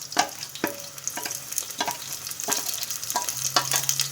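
Onion and garlic sizzle and fry in a pan, a soft steady crackle broken by scrapes and stirring knocks from a utensil, close and fairly quiet with no one speaking.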